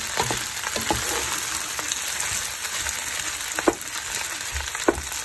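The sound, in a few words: tuna pasta with mixed peppers stirred in a pan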